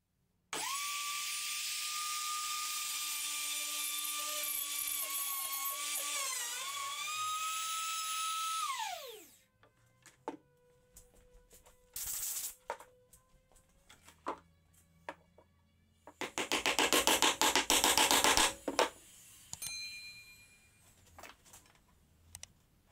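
A wood router with a 40 mm guide bushing whines at high pitch while cutting a groove in a tenon-mortise jig, then winds down, followed by scattered clicks and a second loud burst of machining.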